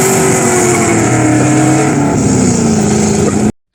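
A Ford Boss 429 V8 roars loudly and close, its pitch sweeping gradually downward over several seconds before cutting off abruptly into silence.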